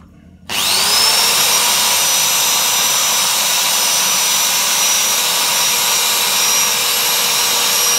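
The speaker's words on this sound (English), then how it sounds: "So I'm going to need to drill out this rivet. Use a 5mm drill bit." A power drill with a 5mm bit drills out a rivet on the central locking mechanism of a Bugaboo Cameleon 3 stroller, starting abruptly and then whining loudly and steadily at close range.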